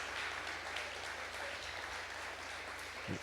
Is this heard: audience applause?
yes